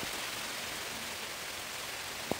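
Steady, even rain falls during a harvest of overripe crops, a dense continuous hiss close by with one brief knock near the end.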